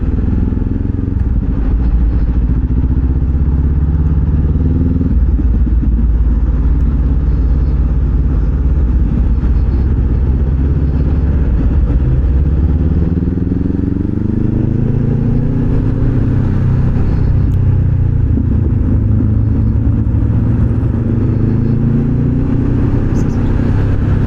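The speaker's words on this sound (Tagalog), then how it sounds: "Sana naman hindi hanggang Balintawak tong traffic na to." Heavy road traffic with motorcycles and cars in a slow jam near Balintawak in Manila, recorded from a motorcycle: a steady, loud engine rumble with shifting revs and occasional clatter. Someone talks over it throughout.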